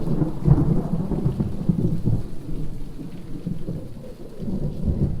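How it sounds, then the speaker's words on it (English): Rain and a rumbling thunderstorm outdoors, loud low thunder rolling continuously under steady rainfall, with no voices. "it looks like I'm getting rained out"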